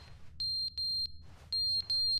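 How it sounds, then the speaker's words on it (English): Beeping alarm in the video game Stanley Parable: Ultra Deluxe, a piercing high electronic tone sounding in four short bursts with brief gaps between them, loud and clear above quiet background noise. "Oh, it's that beeping!"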